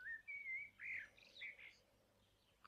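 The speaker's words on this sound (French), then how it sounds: "le chant des petits oiseaux est mélodieux" Small forest birds sing in bright, whistled chirps and short trills, several quick phrases in the first half and then fading to quieter calls, clear against a near-silent background.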